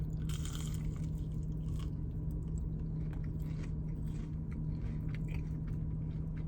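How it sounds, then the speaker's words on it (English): Crunchy breaded Hardee's onion rings are bitten and chewed inside a car, with soft close crunches and chewing over a steady low engine-like hum. "They're fresh, perfect amount of crunch."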